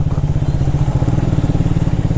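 A Triumph Speed 400 motorcycle rides along, its engine putting out a steady, throbbing low pulse with a rapid, even firing rhythm, close and fairly loud, with no voices.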